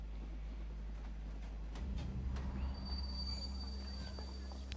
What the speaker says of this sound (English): Ooh, beautiful train.